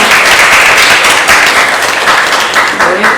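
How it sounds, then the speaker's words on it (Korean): Warm, loud applause from a conference audience at a civic education forum opening ceremony, close and dense clapping that swells in small waves across a few seconds, with no one talking over it. "뜨거운 박수 축하해 주시기 바랍니다"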